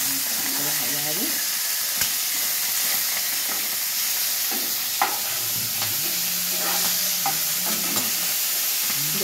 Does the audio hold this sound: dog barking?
no